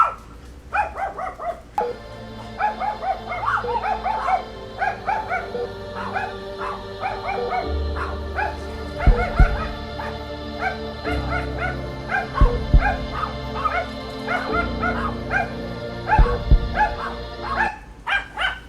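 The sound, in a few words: dogs barking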